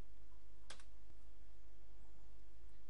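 A single crisp press of the Enter key on a computer keyboard, one sharp click over a constant low electrical hum, with no voices.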